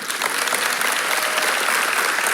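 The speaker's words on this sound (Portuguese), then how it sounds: "Uma salva de palmas para a equipe de louvor" A church congregation gives the worship team a round of applause, with dense, steady clapping from many hands filling the room throughout.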